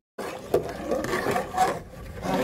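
A long spoon scrapes and presses blended cherry pulp through a fine strainer, giving a steady close rubbing, rasping sound with a few louder strokes.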